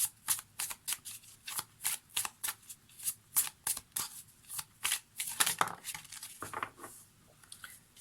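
Oracle cards being shuffled for a reading, a quick run of crisp riffling bursts about every half second, close and distinct, with no talking.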